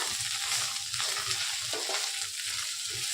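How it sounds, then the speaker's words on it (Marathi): Okra with peanut masala roasting in a pan, a dense, steady close sizzle with soft intermittent scraping from stirring. "आणि असंच हलवून आपण ह्याला चांगलं भाजून घेऊया"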